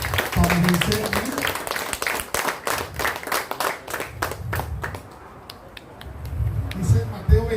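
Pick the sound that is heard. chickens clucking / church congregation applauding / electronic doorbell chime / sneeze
church congregation applauding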